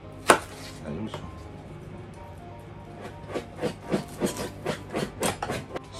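Green onion being chopped into fine shreds on a cutting board for shio ramen, one sharp knock followed by scattered cuts, then a quickening run of crisp, close knife strikes.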